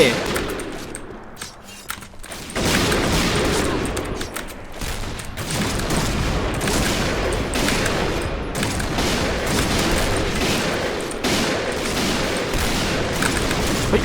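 Dense, loud automatic gunfire from the shooter game Point Blank, fast bursts rattling almost continuously for over ten seconds after a quieter start, with voices faintly underneath.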